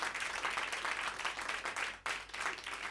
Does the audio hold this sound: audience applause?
yes